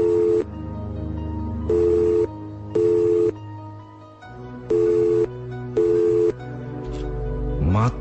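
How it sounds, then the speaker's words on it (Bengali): A telephone ringback tone on the far end of a line in a Bengali horror radio drama: short electronic tone bursts repeat in a steady pattern over continuous background music. "শুনতে পেল ওপাশে রিং হচ্ছে।"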